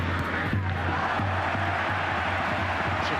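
Football stadium crowd at a La Liga match between Almeria and Real Madrid, a steady roar of cheering and whooping from a large distant crowd that rises briefly and stays dense throughout.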